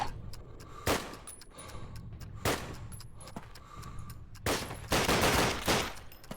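Pistol shots in the shooter game Call of Duty: United Offensive ring out as several sharp, separate cracks at irregular intervals over a low background hum.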